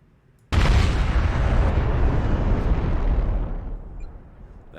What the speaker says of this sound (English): Let's take a look at what those weapons look like firing